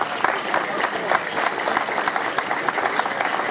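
Applause at a Christmas lighting event in Puntallana, honouring Gabriela Ortega Hernández for first prize in a school Christmas card contest: a steady, dense patter of many hands clapping, fairly close, continuing evenly throughout.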